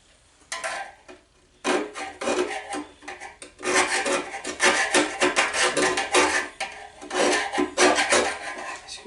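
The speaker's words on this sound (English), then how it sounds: "Screwdriver's breaking up some of it here." A screwdriver scrapes and rasps at debris inside the engine of a vehicle that sat unused for seven years. Repeated gritty scraping bursts come close and loud after a short opening pause, with no talking.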